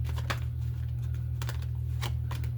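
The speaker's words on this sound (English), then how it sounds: "Actually, let me shuffle this." Tarot cards are shuffled in quick bursts of riffling taps and slaps, close up over a steady low hum.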